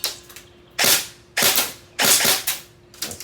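An ARP9 airsoft gun fires semi-automatic: four to five sharp, loud mechanical snaps spaced roughly half a second apart, each with a quick decaying rattle, heard close and with no voices.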